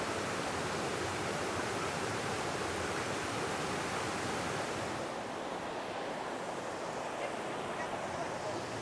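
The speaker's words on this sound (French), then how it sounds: "Voilà, les cascades." Waterfall cascades pour steadily in a broad, even rush of white noise, continuous and moderately loud, without distinct splashes or breaks.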